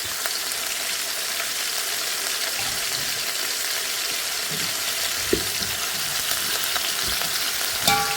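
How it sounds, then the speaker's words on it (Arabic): Onion, pepper and garlic frying together in a pan, a dense even sizzle held steady throughout, with a couple of faint utensil taps near the middle and end. "راح نخلي البصل والفلفل والثوم كله شوية اخليه عشان يصير."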